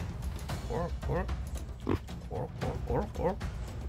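Pig oinks and squeals from a video game battle simulator, several short grunting calls in a steady run over a busy background of game sound, fairly loud and close.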